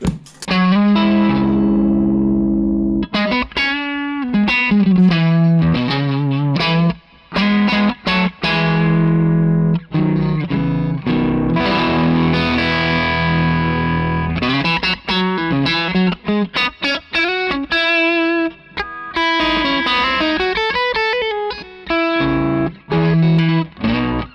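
Electric guitar driven hard through several low-gain overdrive pedals stacked for higher gain, thick and saturated, playing chugging riffs and ringing chords with brief pauses, loud and up close.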